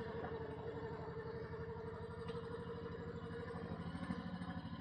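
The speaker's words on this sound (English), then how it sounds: "My bike don't like to idle that low for that long." A motorcycle idles at low speed on a campground loop road, a steady rumbling pulse that stays close and even throughout with no talking.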